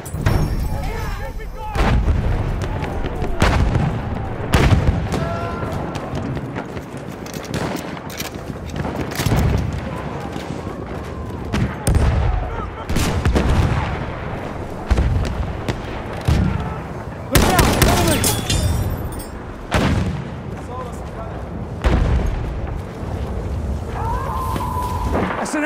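Gunfire and explosions in a Battlefield 1 Team Deathmatch battle on the Suez map, with bursts of machine gun fire and heavy booms crowding a continuous loud combat din, voices shouting now and then.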